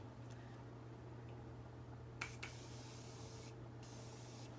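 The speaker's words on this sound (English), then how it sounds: "I'm going to spray down my face as well." Two short, soft hissing bursts of makeup setting spray sprayed onto a face close by, with a faint steady hum underneath and quiet room noise.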